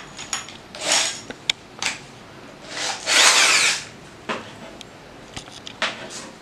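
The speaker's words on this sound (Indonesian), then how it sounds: "Sekarang kita akan tes menggunakan mata bor kipas yang berukuran 20 mili" Bursts of a Tosita TS-10VRB electric drill whine in short runs as a 20 mm spade bit bores, one longer grinding stretch in the middle, with clatter and pauses between, fairly close.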